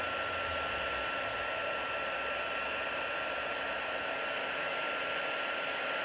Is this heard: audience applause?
no